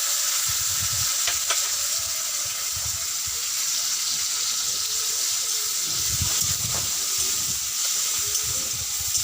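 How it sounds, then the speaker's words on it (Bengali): Chopped onion fries in hot oil with a steady, bright sizzle that fills the pan, with occasional stirring scrapes and no talking. "এবার ওর মধ্যে একটা বড় সাইজের পেঁয়াজ কুচনো দিয়ে দিচ্ছি।"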